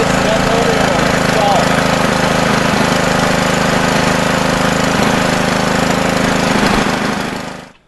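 A supercharged LT4 V8 from a ZL1, swapped into a Volvo, idles cold with the choke on. The loud, steady, rough rumble continues throughout and then cuts off at the end.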